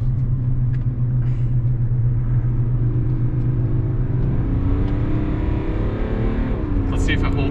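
A 2022 GMC Sierra 1500 Limited AT4 diesel engine holds low gear and revs toward 5,000 RPM. A loud, steady drone gives way to a rising pitch near the end, with voices faintly present inside the cab.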